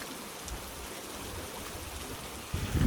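Soft, steady patter of rain at Myrtle Beach, a faint even hiss of drops falling on surfaces, with a low thump of handling noise near the end.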